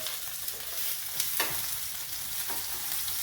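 Prawns sizzle in hot oil in a pan for seafood paella, a loud, steady, close frying crackle with occasional brief stirring scrapes, no voices.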